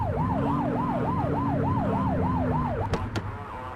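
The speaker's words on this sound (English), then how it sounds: "Get on their tail and flip the siren." A police car siren from the video game The Precinct wails in a steady rising-and-falling cycle, loud and continuous, ending with a couple of sharp clicks as it cuts off.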